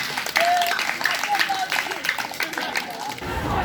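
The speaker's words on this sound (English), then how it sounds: "clap for yourself" Students at a high school community development orientation applaud, a fairly dense, steady round of clapping that carries on for the whole stretch, with crowd chatter and a few voices mixed in.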